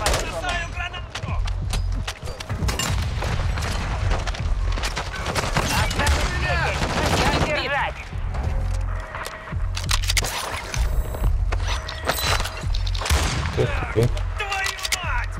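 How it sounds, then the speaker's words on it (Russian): Gunfire and explosions from a grenade throw in Warzone 2, a dense, loud run of shots and booms continuing throughout, with game voice callouts mixed in. "Бросаю гранату!"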